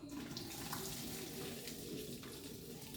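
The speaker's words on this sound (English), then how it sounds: "I'm fixing to drain my pasta." Cooked pasta being drained in a kitchen sink, a continuous rushing pour of water splashing into the basin, steady and close for the whole stretch with no talking.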